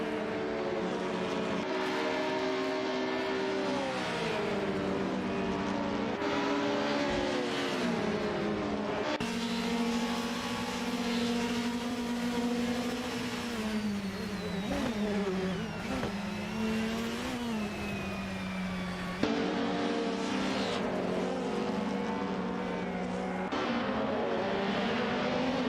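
Engines drone and rev continuously as AI race cars, among them a Ford Mondeo 98, compete in a racing video game, with pitch climbing and dropping through gear changes and corners and a brief engine surge near the end.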